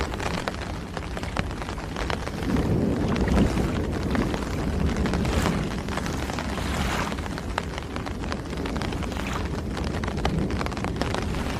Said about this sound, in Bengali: শো শো বাতাসের গতি বেড়েই চলেছে